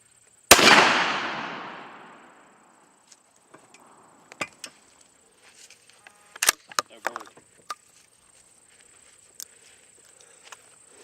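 A single loud shotgun blast from a Winchester No. 2 shell fired through a Trulock long range choke at 40 yards, a sharp crack with a long decaying tail, followed by scattered faint clicks and handling noises.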